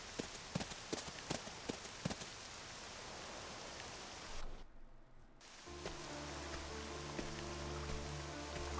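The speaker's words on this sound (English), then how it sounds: "Or it's still raining." Steady rain hiss in Octopath Traveler 2 with a few sharp drips early on, a brief near-silent gap, then rain continuing under a low sustained tone.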